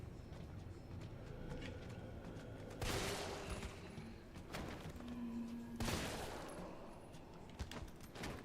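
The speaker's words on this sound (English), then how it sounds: "we're just gonna blast through with the hand cannon" Two loud, booming blasts from the hand cannon in the game Resident Evil 3 Remake, spaced a few seconds apart, each with a crunchy burst that rings out against a constant low rumble of game ambience.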